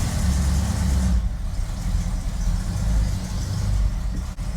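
A 1961 Cadillac Deville from an abandoned project runs while backing up in reverse. Its engine gives a steady, low, throaty rumble that stays close and even throughout, with no voices.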